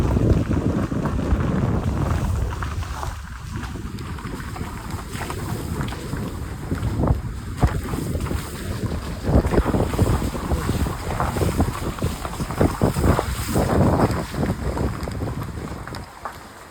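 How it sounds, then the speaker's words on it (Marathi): Strong wind roars and buffets the microphone during a road trip from Pune to Mahabaleshwar, a loud, continuous rushing noise with gusty surges and no talking. "इथं मस्त वाऱ्याचा आनंद घेतला. एवढा भारी वारा येत होता ना"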